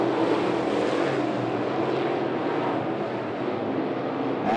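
NeSmith late model race cars thunder around 411 Motor Speedway, a steady dense engine roar filling the whole stretch at constant loudness with no voices, swelling slightly at the very end.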